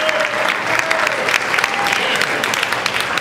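Loud, lively applause from a comedy club audience at Laugh Out Loud Comedy Club, with dense clapping and crowd noise, a few cheers and a faint whistle mixed in.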